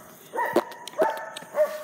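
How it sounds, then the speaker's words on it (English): A dog barks three times in a moderate-sized room, single short woofs spaced about half a second apart, fairly close and clear with no talking. "First dog, Willie."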